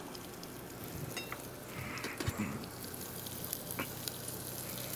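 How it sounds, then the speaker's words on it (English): Onion and garlic sizzle steadily in a hot pan, a constant crackling fry with small pops and a few faint stirring scrapes, close and fairly quiet with no talking. "And then we'll add the onion. The onions? So half of that. Okay. Yep. And then a couple teaspoons of garlic."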